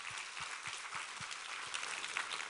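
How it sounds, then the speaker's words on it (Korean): A church congregation applauds during a Sunday revival worship service, a dense, steady roar of clapping from many hands with a few deeper thuds underneath, sustained throughout. "우리 하나님께 감사와 영광의 박수를 올려드리겠습니다."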